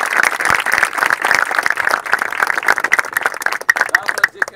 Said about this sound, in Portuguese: que eu peço uma grande salva de palmas.